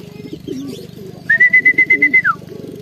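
Racing pigeons coo in a low, throaty, repeated rhythm at a loft after a derby race, close and clear, while a shrill, sustained whistle-like tone pulses briefly over them midway.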